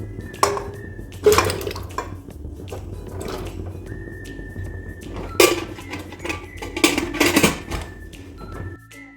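Pot and metal utensils clink and clatter in a kitchen as potatoes are put on to boil for samosas, several sharp knocks and scrapes over a low steady background hum, no talking.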